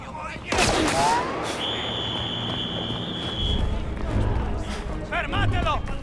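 Gunfire in the Indiana Jones and the Great Circle video game, sharp loud bursts near the start and again near the end among game sound effects, with voices shouting over the action.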